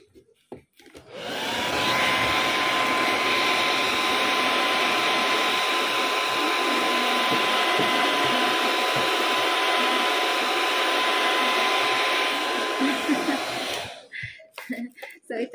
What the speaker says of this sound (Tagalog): So, blower natin yan para maalis din.